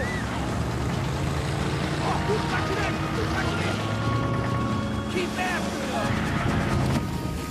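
A speedboat engine roars during a chase in the Max Payne 3 video game. A dense, continuous motor rumble mixes with water rush, and shouting voices are heard over it.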